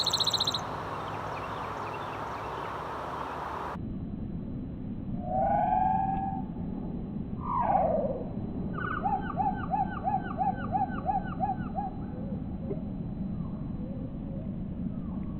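A songbird sings clear, rising whistled phrases, first at natural speed and then slowed to a fifth, the slowed notes stretching into drawn-out, lower glides and rapid repeated trills over a steady outdoor hiss.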